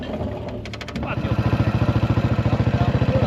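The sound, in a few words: Yamaha 500 motorcycle engine running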